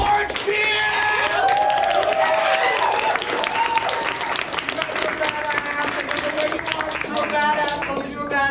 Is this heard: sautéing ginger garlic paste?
no